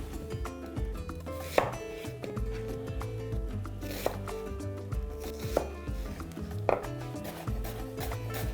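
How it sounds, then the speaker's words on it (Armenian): Onions being chopped finely with a kitchen knife, heard as a handful of sharp, widely spaced strikes on a board beneath steady, louder background music. "կվերցնեմ 2 գլուխ սոխ, սրանք հարկավոր է մանր կտրատել"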